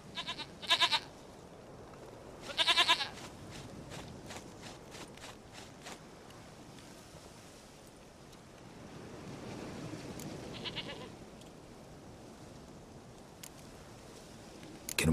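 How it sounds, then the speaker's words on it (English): A goat in The Witcher 3 video game gives two short bleats early on, followed by a third fainter bleat later, over quiet ambient game sound with no talk. "sweetest goat."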